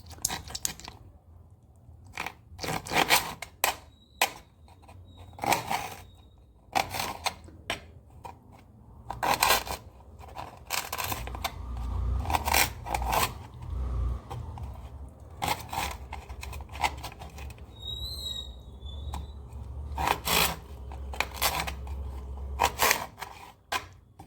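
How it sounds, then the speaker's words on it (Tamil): Scissors snip raw chicken liver into small pieces in a home kitchen, producing sharp, close clicks in uneven bursts with soft squelchy crunches and short pauses between them. "இப்போ சின்ன சின்னதாக கட் பண்ணிக்கலாம் பெருசாக இருக்கிறத சின்னதாக கட் பண்ணிக்கலாம்"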